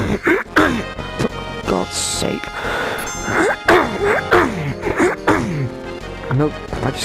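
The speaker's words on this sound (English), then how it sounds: "Nope, I just cannot clear my throat." A man recording a Final Fantasy VII game commentary repeatedly clears his throat. Several harsh, close, forceful rasps and cough-like bursts are separated by short voiced grunts, with no clear words.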